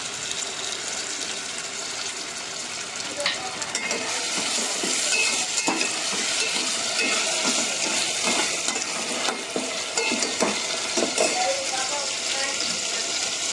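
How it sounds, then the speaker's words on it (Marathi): Tomato goes into fried onion in a pan for a Malvani prawn curry, producing a steady, moderately loud sizzle with scattered stirring and utensil clinks throughout. "तर आपला कांदा भाजलाय. तर त्याच्यात टाकूया टोमॅटो."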